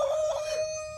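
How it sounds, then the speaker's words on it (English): A homestead rooster crows nearby, one loud, sustained cock-a-doodle-doo that fades toward the end. "I love hearing the roosters."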